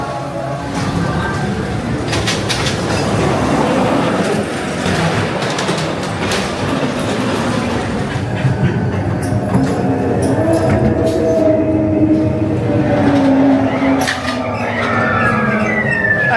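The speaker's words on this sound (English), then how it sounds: "let's have a ride on the ghost train" A ghost train ride car at Blackpool Pleasure Beach rumbles and clatters along its track with rattling, clanking noises and mechanical whirring, while voices and background commotion fill the space.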